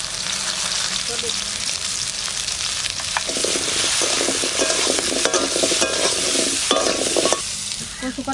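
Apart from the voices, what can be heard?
lightly frying taro pieces in oil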